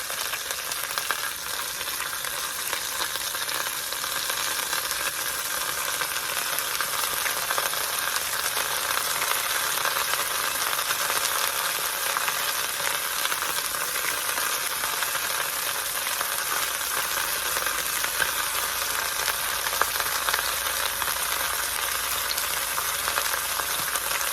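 Steady, loud sizzling of beef roast and onion searing in a hot pan, a continuous crackling hiss with no talking.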